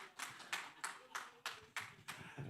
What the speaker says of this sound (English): a big clap for our CEO, Mr. Odoro Ngwen